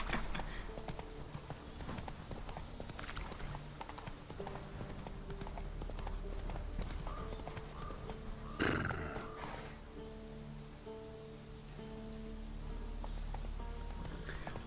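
Horse hooves clip-clop steadily through the Witcher 3 game, a galloping horse with occasional whinnies over rain and a low music bed, close and continuous throughout.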